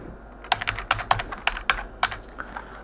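Fast, uneven typing on a computer keyboard, the crisp clicks loud and close, in short bursts with brief pauses as a login name is entered in access-control software.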